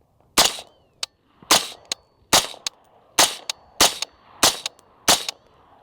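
A Griffin Armament HRT 556 rifle fires unsuppressed in about eight sharp, loud shots at an even pace, each followed by a fainter echo crack, with no talking.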